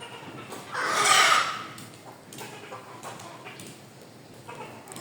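Hens that have just laid eggs give a soft burst of clucking early on, then fainter scattered fowl sounds follow in a quiet yard, with no talk.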